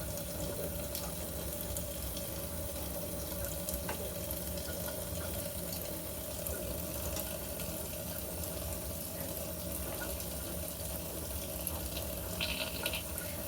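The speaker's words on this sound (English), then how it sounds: "Just needing some water here because I'm getting slippery on my fingers." Running water from a tap pours steadily while a straight razor is honed on a Japanese natural Ohira whetstone, a continuous even gush with a faint tonal hum beneath and no talking.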